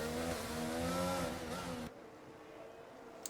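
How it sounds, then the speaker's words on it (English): A Mercedes Formula 1 car in the F1 22 racing game sounds as a loud, high engine whine that climbs and shifts pitch as it pulls out. The engine cuts off sharply partway through, leaving quieter background sound. "there is a Mercedes coming out of Ericsson"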